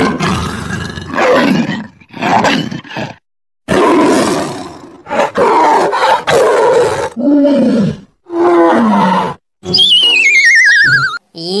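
A tiger roars repeatedly in a children's phonics song, a series of loud, close, drawn-out roars and growls separated by short pauses.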